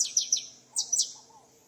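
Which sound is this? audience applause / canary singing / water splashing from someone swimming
canary singing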